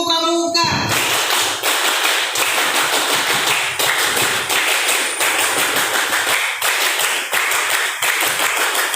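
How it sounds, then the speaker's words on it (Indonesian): A crowd performs the Indonesian scout clap (tepuk pramuka) three times at a cooperative's annual meeting, giving sharp, rhythmic bursts of many hands striking together in quick patterned sequences, loud and close. "3 kali tepuk pramuka"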